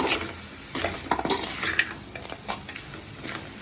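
Crab being stirred into masala in a pan over a low flame, with a spoon scraping and clinking against the metal amid a soft sizzle, close and fairly quiet.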